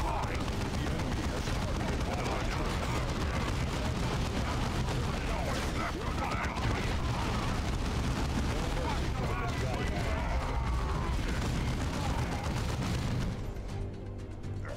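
Dense, continuous battle din from Warhammer 40K: Dawn of War 2, with grenade blasts among rumbling explosions and gunfire, loud and sustained throughout before thinning out near the end; voices appear under the noise.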